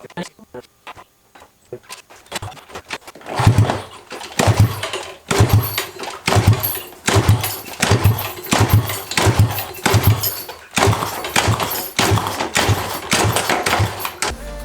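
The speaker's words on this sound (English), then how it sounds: "So we didn't manage to get the bike started" Honda CB125 motorcycle with a flooded carburetor failing to start, a long series of rhythmic cranking attempts, each a churning thump repeated steadily without the engine catching.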